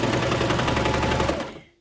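A serger stitches the gusset seam of a skort in a rapid, steady mechanical chatter. It stays close and loud, then winds down and stops near the end.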